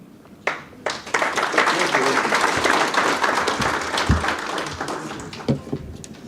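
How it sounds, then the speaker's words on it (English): Sustained audience applause, a dense wash of many hands clapping at steady volume, with a few louder claps at the start and scattered near the end. "I think it deserves a better round of applause for that topic."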